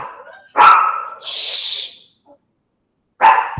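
A pet dog named Courage barks indoors, with two loud, close barks separated by a breathy pause, while someone briefly hushes it.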